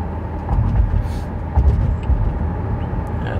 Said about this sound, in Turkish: Evet, akşam trafiği.